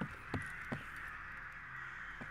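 Several crows in the video game Stalker Anomaly let out a few distinct caws in quick succession over a low, steady windy background, moderately distant and with no speech.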